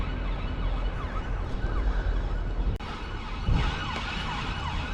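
An ambulance siren sounds somewhere beyond a riverside setting, a faint wailing tone under broad steady ambient noise, drifting rather than loud and close.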